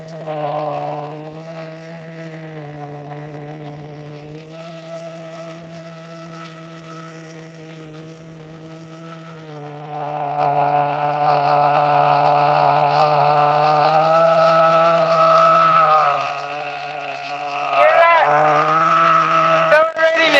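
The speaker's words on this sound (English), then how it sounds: "Accelerating and decelerating. That's what professionals call the appropriate break-in cycle." Small engine on an X28 run through its break-in cycle, a steady buzzing drone that climbs sharply in pitch and loudness partway through, holds high, eases off briefly, then revs up again.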